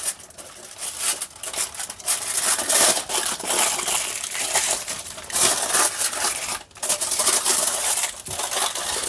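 A smoked 750 g Tesco gammon joint being wrapped in aluminium foil, with loud, continuous crinkling and crumpling that runs close up for several seconds with a brief pause near the end, no talking.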